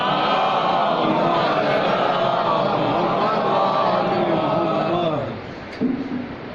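A congregation at a majlis for a death anniversary chants salawat together, many voices blending into one loud, sustained, droning chant that fades briefly near the end.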